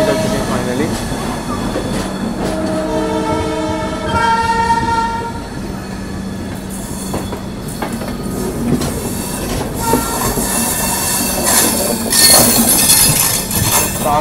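Santragachi–Tirupati weekly express running after leaving Vijayawada, with steady loud rumble of carriages and wheels on track, a sustained horn blast in the first half and faint squeals over the continuous train noise.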